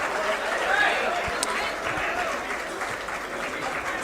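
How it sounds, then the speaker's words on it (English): Audience applause at a book launch event, a steady wash of clapping from a large crowd that fills the whole stretch at a constant level, with faint voices mixed in. "Please welcome all our guests with a big round of applause."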